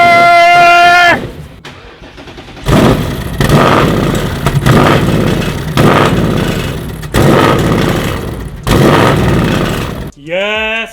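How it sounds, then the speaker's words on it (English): A 2024 Ford Mustang's engine cranks and catches, then runs loudly with a rough, pulsing rumble, punctuated by excited shouting before and after. "see if this car actually starts up"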